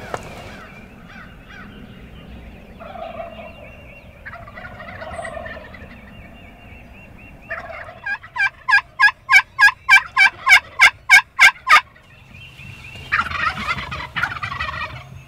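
Wild turkeys gobble in bursts amid other bird calls on Iowa public land in the morning, with a rapid run of sharp, loud rhythmic calls in the middle and more gobbling after.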